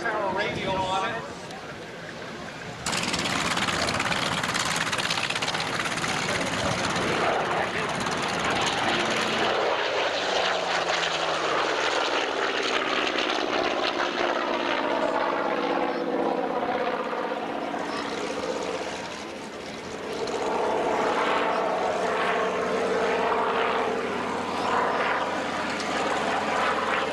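A large airplane with a 3,300 horsepower radial engine at an air show roars loud and steady, the engine note rising then shifting as it passes overhead, with a brief dip before surging again, while a voice talks over it.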